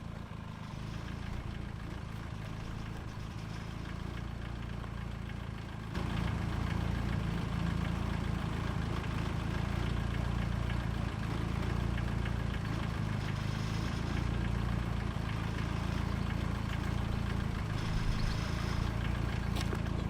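A custom widebody Nissan 240SX idles nearby with a steady low rumble, stepping up slightly in loudness partway through and holding an even drone without revving.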